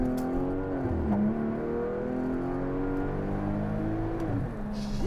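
A Porsche 911 Turbo, a worn former Las Vegas rental, pulls hard on a highway, its engine note climbing steadily through two gear changes in a loud, continuous close-up drone.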